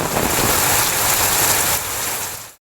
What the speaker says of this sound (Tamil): இடியுடன் கூடிய பலத்த மழை பெய்தது